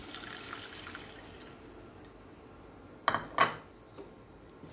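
Water is poured into a pot for lemon coriander soup in a home kitchen, heard as two short splashing bursts near the end after a quiet stretch of low background hum.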